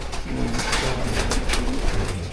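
Pigeons coo steadily and close by, with low, rolling calls repeating over a dense, continuous background of birds in a loft of racing pigeons.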